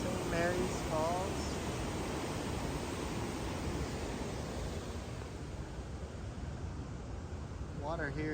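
St. Mary's Falls in Glacier National Park roars as a steady, broad rush of falling water, constant and full throughout, with brief voices and birdlike chirps at the start and end.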